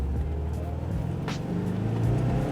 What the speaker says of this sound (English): Makes quite a nice noise for a 4-cylinder. Motors along nicely.